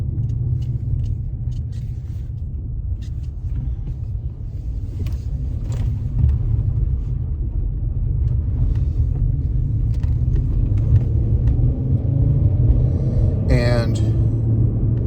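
A front-wheel-drive car with several failing wheel hubs drones with a steady, low rumble of road and bearing noise that holds for the whole stretch and swells slightly toward the end.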